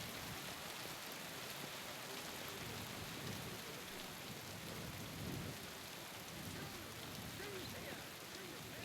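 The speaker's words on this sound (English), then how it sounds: "Oh, don't mind the rain." Rain and thunder in the medieval role-playing game Kingdom Come Deliverance 2, a steady, even hiss of heavy rainfall with low distant rumbles of thunder rolling underneath, continuous throughout without voices.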